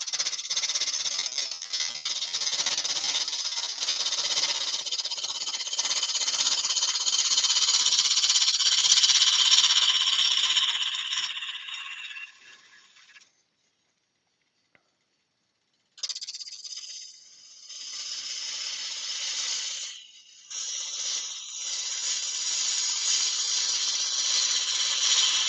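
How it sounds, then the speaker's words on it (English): A parting tool trues up the end of a workpiece spinning on a wood lathe for a bedside reading lamp, giving a loud, steady hissing scrape that runs for about twelve seconds, stops for a few seconds, then resumes in bursts. "True up the end. We can do that with the parting tool or the bedan."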